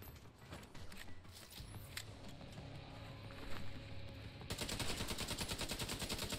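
A hostile sniper turret firing in the shooter The Division 2: sharp gunshots at first, then a loud, rapid, steady stream of shots that runs to the end.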